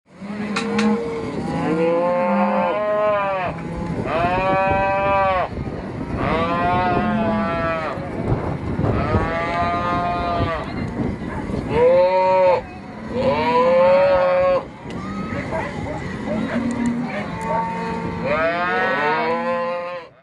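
Cattle low and moo again and again across a branding and calf-vaccinating session in big open range country, the calls loud and overlapping in a busy herd.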